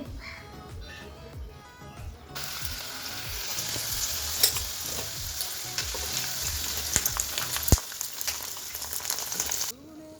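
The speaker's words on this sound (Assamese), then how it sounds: "এতিয়া গৰম কৰি আছোঁ মই গাখীৰ, তাৰপাছত চাহ খাম।" Milk heating in a pan on a home stove for tea, with a steady sizzling hiss and occasional clinks, growing louder midway and then cutting off, heard close with no talking.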